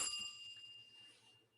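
A single bright bell ding, struck once and ringing out with a clear sustained tone that slowly fades.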